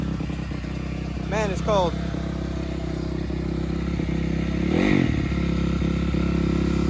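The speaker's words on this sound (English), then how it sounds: "Got the bike warming up." A motorcycle engine idles steadily while warming up on a cold day, a constant low rumble throughout. Someone speaks briefly over it.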